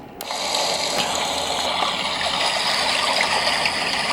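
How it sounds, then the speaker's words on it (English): A baby sound machine plays a flowing water brook track, a steady rushing gush that starts abruptly and continues evenly at moderate level, with no talking. "And it's a little like sound machine. It has white noise, rain, summer nights."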